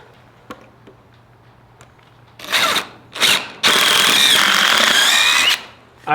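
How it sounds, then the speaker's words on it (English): A power drill fitted with a 3/8 bit whirs in two brief bursts and then one long, loud sustained run while building a rotating chicken coop on wheels, with faint ticks before it. "We've got a 3/8 drill bit."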